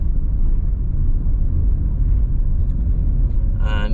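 Car rolling through the Cassisa Park community in Kingston, Jamaica, a steady engine and road rumble heard from inside the cabin with a brief higher noise near the end.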